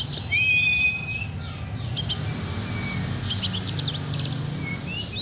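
A seven-month-old oriental magpie-robin at a bird farm sings bright, high chirping phrases and whistles, sounding fairly near over a steady low background hum with no talking.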